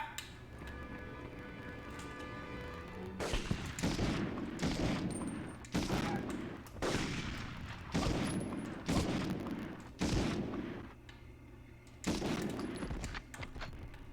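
Repeated bursts of gunfire from the video game Medal of Honor, loud volleys of rapid shots in clusters of about a second each, separated by short pauses over a steady low game-ambience hum.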